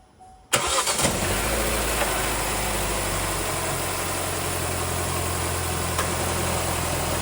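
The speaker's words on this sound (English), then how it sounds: "So I'm going to start the car up." A 2017 Vauxhall Mokka X, whose coolant bottle was leaking, cranks briefly and fires up, then settles into a steady, even idle with a low engine hum heard close by and no talking.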